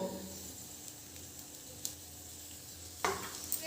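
Faint, steady sizzle of puffed rice snacks frying in oil, with more oil poured in at the side of the pan and a couple of sharp clicks near the end.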